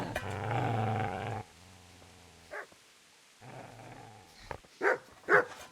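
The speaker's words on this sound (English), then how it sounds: "Get away, you mutt!" A dog growls in a low, rumbling stretch, followed by a few short, sharper yips and growls separated by brief quiet gaps, fairly close.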